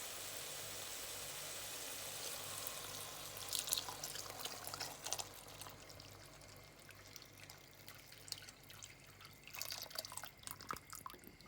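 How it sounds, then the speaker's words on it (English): Vegetable stock is poured into a pot of curry lentils with onion, giving soft, faint liquid splashing and dripping over a low steady hum, growing busier in bursts toward the end; no voices. "We're going to add the liquid, which is vegetable stock."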